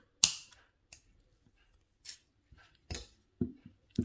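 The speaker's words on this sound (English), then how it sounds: "then you need to cut that wire off and press it around" Wire being snipped with cutters while finishing a wire-wrap pendant, a few crisp isolated clicks spaced over quiet pauses.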